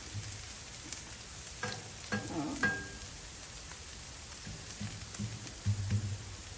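Bacon sizzles on a Blackstone griddle, a quiet continuous crackle broken by a few clinks and scrapes of a utensil.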